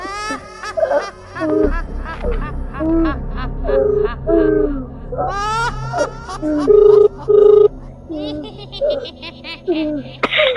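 A telephone rings in a Gujarati village comedy scene, repeated short tonal rings cutting through excited people talking.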